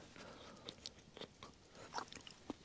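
Crunchy cooked carrots being chewed at a solo night camp, giving a few soft, close, irregular crunching bites with brief pauses between them and no talking.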